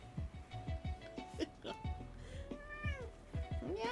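A pet cat meows repeatedly, short rising and falling cries close by, while a person talks over and between them.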